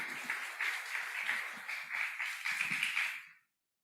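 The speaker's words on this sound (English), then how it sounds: "Let's give an applause for one moment again." An audience in a ballroom applauds at the opening ceremony of the EURASIA International Course. Steady, fairly soft clapping lasts about three seconds, then stops abruptly into silence.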